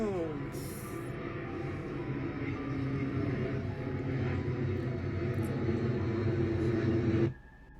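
Airplane passing overhead: a broad, steady engine rumble with droning tones holds for about seven seconds and then cuts off abruptly, with a brief noisy burst near the start.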